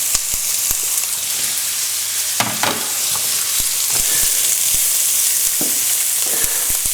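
Onions are frying in oil with chorizo in a hot pan, giving a loud, constant crackling sizzle with sharp pops and a few stirring scrapes throughout.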